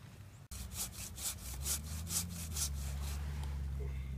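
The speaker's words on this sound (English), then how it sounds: "he's sawing the tree down" A hand saw cuts through a Christmas tree trunk in steady back-and-forth strokes, rasping rhythmically against a low background rumble.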